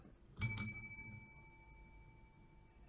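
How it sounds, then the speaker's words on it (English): Two quick bright bell dings, close together, ringing out with a shimmering metallic tail that fades over a couple of seconds. "So hit that bell, Chicken."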